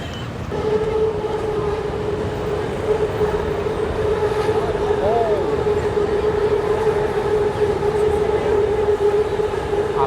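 A BTS Skytrain rolls past in Bangkok with a loud, steady rumble and a sustained whining tone from the wheels and motors, continuous and close for the whole stretch.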